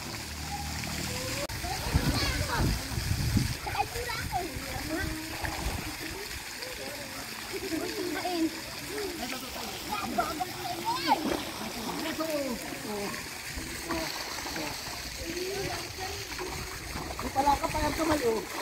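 People swimming in a river at Camella Homes, with continuous splashing and sloshing water close by, frequent small splashes, and children and adults talking and calling out over it.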